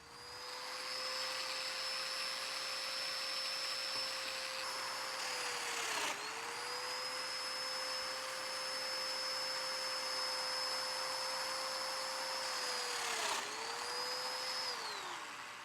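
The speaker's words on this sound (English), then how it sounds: "I'm going to use dominoes to help join the boards together." A domino joiner whines steadily while cutting mortises in boards for a Shaker step stool, with dust extraction running alongside; the loud motor drone holds almost unbroken and dips briefly twice as each plunge ends.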